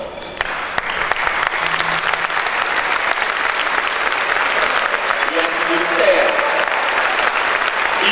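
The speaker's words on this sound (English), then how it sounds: "to please stand and be recognized with a round of applause." A round of applause in the Georgia Legislature chamber as the Legislative Black Caucus stands to be recognized, a broad wash of clapping from a large crowd that stays loud and even for several seconds.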